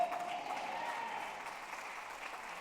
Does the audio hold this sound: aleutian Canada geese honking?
no